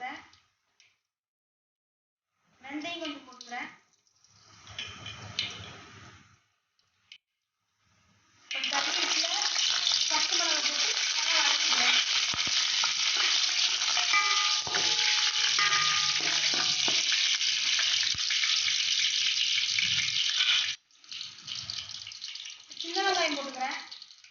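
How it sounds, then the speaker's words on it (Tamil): Mustard seeds crackle and sizzle steadily in hot oil in a home kitchen, a bright continuous frying hiss lasting several seconds, framed by brief speech before and after. "எண்ணெய் நல்லா காஞ்சிருச்சு இப்போ கடுகு போட்டுக்கிறேன்"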